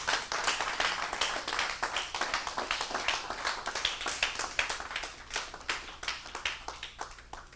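A church congregation claps together in a steady, rhythmic beat to acclaim the Lord during a worship service, with dense, loud claps continuing throughout.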